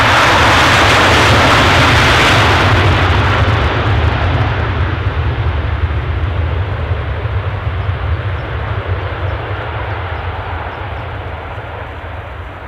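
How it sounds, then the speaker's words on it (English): Ryanair airliner arriving from Prague at Edinburgh Airport, a loud sustained jet roar with rushing hiss at the start that slowly fades as the plane passes, no talk over it. "Incomer, Ryanair from Prague."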